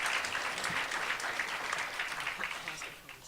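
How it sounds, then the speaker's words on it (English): Steady applause from an audience clapping for a panel of three speakers at a talk on ayahuasca, dense and sustained throughout, tapering slightly at the end. "So I'd like for everyone to give a round of applause for everybody up here"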